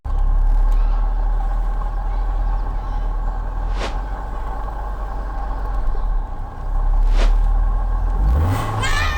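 A Fiat Tempra 2.0 16v fitted with a Race sport air filter idles and revs with a steady mid-range engine drone, two brief sharp bursts cutting through before a final rising rev.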